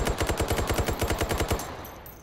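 Stoner LMG light machine gun firing a single sustained automatic burst of about a dozen rapid, evenly spaced shots in the VR shooter Hot Dogs, Horseshoes & Hand Grenades, loud and close, cutting off to a fading tail with no talk.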